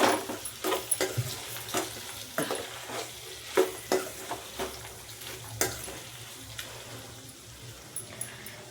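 Garam masala is mixed into vegetables frying in a pan for veg biryani, with a spoon scraping the pan in a quick, uneven series of close strokes over a steady low sizzle.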